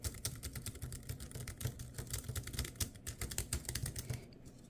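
Quiet, rapid typing on a thin portable wireless Bluetooth keyboard with touchpad, soft clicky keystrokes in a steady flurry, close and alone.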